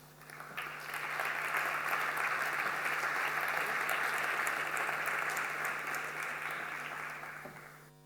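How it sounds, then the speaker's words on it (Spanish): An audience at the opening lecture of a digital media conference applauds to welcome the speaker, a dense, steady wash of clapping that swells up quickly and holds for several seconds before easing off. "Le damos la bienvenida con un aplauso."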